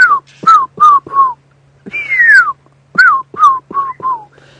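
A person on a live safari drive whistles an imitation of a fish eagle call: two phrases of sharp, descending whistled notes, loud and close, with short pauses between.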